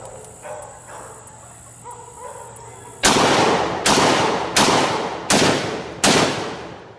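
An AR-12 semi-automatic 12 gauge shotgun fires live rounds on a range: after quiet background hum, five loud, sharp blasts follow in quick, even succession, each with a short decaying echo.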